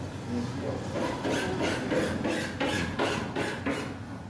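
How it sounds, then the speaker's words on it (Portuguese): A metal file rasps along the edge of a furniture panel in a custom furniture workshop, with steady repeated strokes about twice per second, close and continuous throughout. "é importante usar a lima, porque ela vai dar tipo um contorno na peça"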